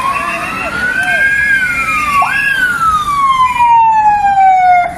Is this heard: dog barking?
no